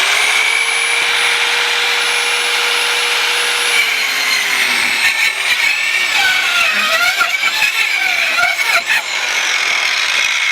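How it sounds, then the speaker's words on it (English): A corded power saw whines at high speed, then bites into a 2x4 at its deepest setting, its pitch dropping and wavering as the blade cuts through the wood, close and loud. "Supposedly, this will cut through an entire 2x4 at its deepest setting."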